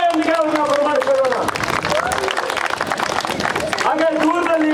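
Audience applause welcoming a police inspector at an outdoor Bengaluru city police crime-prevention event, steady dense clapping from a crowd with a voice and music tones over it throughout.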